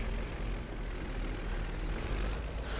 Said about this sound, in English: I love the sound on this tractor.